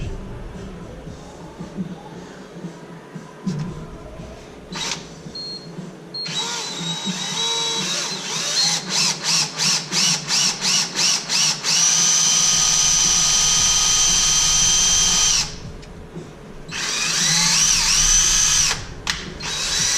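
A DeWalt power drill whines through aluminum near an LS engine's water pump in repeated bursts, with short rapid pulses followed by longer continuous runs, loud and close.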